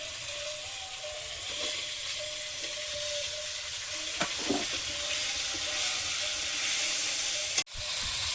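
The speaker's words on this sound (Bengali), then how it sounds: "লাউ ডাঁটাগুলো দিয়ে আর একটু নেড়ে নেবো" Gourd stems frying in a pan give a steady, close sizzle and hiss throughout. A few scraping stirs are heard, along with a sharp knock near the end.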